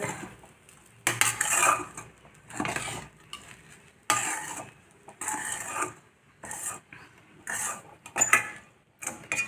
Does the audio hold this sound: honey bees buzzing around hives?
no